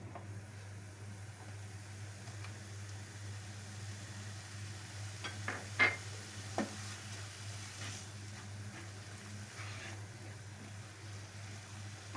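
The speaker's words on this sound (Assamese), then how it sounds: "এতিয়া আমি ইয়াতে বিলাহীখিনি মিলাই দিছোঁ।" Chopped tomatoes are stirred into onion, ginger and garlic frying in a pan, giving a soft, steady sizzle with a few scattered scraping clicks from the spoon, faint and close, with no talking.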